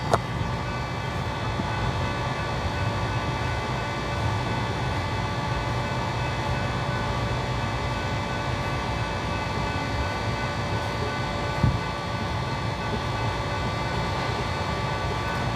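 A freight train moves slowly along a siding in Friona, Texas, giving a steady, continuous rumble and rolling drone for the whole stretch, with one brief clunk partway through and no talking.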